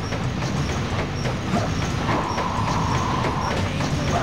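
A ghost train ride in the Pumpkin Hill stage of Sonic Adventure 2 Battle: a steady, loud rolling rumble of rail wheels with rhythmic clacks and a sustained squealing tone partway through.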